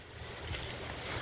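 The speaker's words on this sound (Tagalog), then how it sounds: "Kusog kayong hangin." Strong typhoon wind roars steadily and loudly across the microphone, a dense continuous rush with gusty low buffeting and no talk.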